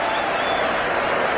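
A large cricket crowd roars and applauds a boundary shot, a loud, continuous wash of cheering and clapping from the stands with no single voice standing out.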